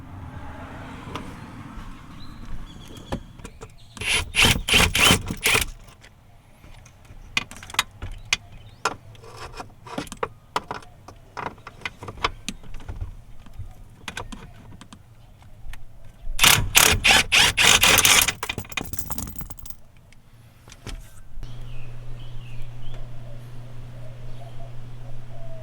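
A ratchet wrench with a 15mm socket on extensions loosens a taillight bolt on a Ram truck, with two bursts of rapid clicking ratcheting separated by quieter handling and tool clatter, close up.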